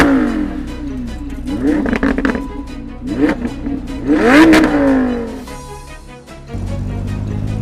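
A 2025 Lamborghini Revuelto supercar engine revs loud and close in several rising bursts, each climbing in pitch and then dropping back, followed by a lower steady drone.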